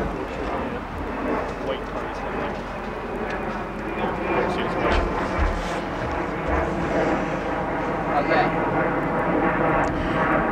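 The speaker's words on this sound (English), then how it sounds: "Is there a plane coming?" Propeller airplane passing overhead during an outdoor film shoot, a droning engine rumble that builds slightly over the clip and stays under people talking nearby.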